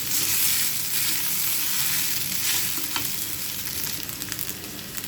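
Cooked rice being stirred in a hot pan for vegetable fried rice makes a loud, steady sizzle with scraping and tossing sounds throughout, no voices.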